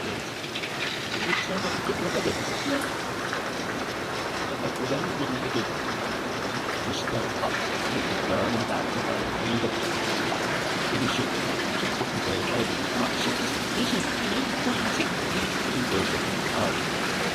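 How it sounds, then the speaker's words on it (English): Counter current water jets running in an Arctic Spas Ocean swim spa, a steady loud broadband rush of churning water that holds evenly throughout with no break. "But you also have a current, a counter current, which I'll get going now."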